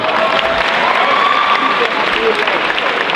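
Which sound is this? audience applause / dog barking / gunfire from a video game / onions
audience applause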